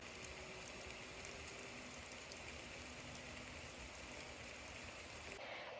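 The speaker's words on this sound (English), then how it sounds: "I also currently have on this ambiance, this like dark academia ambiance." Dark academia ambiance track with steady rain plays quietly in the background, a soft continuous patter with no voices.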